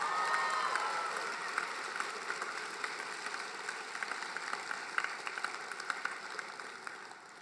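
A commencement audience at a law school graduation applauds, broad sustained clapping with scattered cheers filling the room, gradually tapering off toward the end.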